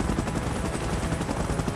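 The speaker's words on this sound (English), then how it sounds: "Chopper in position." Helicopter in the PUBG Mobile game's Godzilla and Kong vs Mechagodzilla mode, a steady, loud rotor roar filling the whole stretch with a dense, continuous wash of noise.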